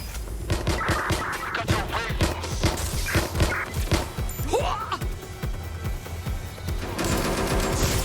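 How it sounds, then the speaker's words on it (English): Bursts of rapid gunfire in the video game Watch Dogs Legion, sharp repeated cracks in quick volleys, with a character's voice talking over the shooting. "Do you hear gunfire?"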